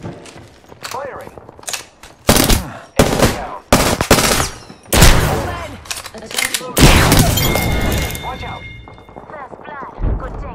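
Bursts of automatic gunfire from an Apex Legends match on PS4 Pro, several loud volleys with brief gaps between them, mixed with game effects and players talking over the shooting.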